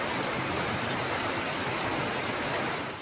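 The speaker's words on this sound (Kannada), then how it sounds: "ನೀರು ಬೀಳ್ತದೆ." Heavy monsoon rain pours steadily onto an outdoor stone slab used for washing clothes, a dense, constant roar of falling water that fills the whole clip and eases slightly at the very end.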